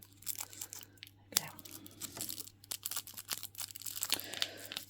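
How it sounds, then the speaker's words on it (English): Scissors snip through the top of a small plastic bag holding a miniature straw, with crinkling, crunching plastic and several sharp cuts close to the microphone. "So I'll just cut the top off of the bag for the straw now."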